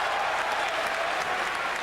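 A boxing arena crowd at a Chris Byrd versus Vitali Klitschko heavyweight fight roars steadily as Byrd rallies, a dense, unbroken wash of cheering and clapping with no pause.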